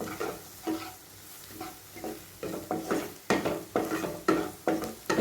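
Gram flour with a capsicum and onion mixture sautés in oil in a pan, heard as a soft sizzle under a regular rhythm of spatula stirs and scrapes that grow louder and quicker toward the end.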